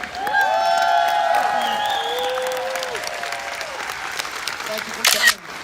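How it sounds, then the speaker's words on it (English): An audience at a Connecticut chocolate expo panel gives sustained applause for the cast of Willy Wonka and the Chocolate Factory. The clapping is loud and close, with scattered cheers and whoops and a few camera shutter clicks, fading near the end. "a big round of applause for the cast of Willy Wonka and the Chocolate Factory"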